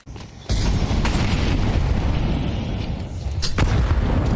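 A grenade explodes in a Counter-Strike 2 match at an ESL Pro League semi-final, a loud booming blast that opens abruptly and leaves a sustained rumbling wash of noise, with a further burst of game action near the end.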